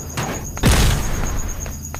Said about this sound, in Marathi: ओके ब्लास्ट झाला, आता स्फोट पण होणार.